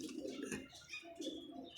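Pigeons cooing softly in a loft, several low throaty coos in an uneven rhythm, close but quiet, with faint chirps mixed in.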